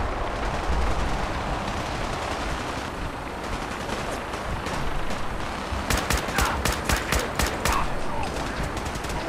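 Fallout 4 gunfire amid a steady roar of combat noise, then a rapid series of sharp, evenly spaced shots toward the end.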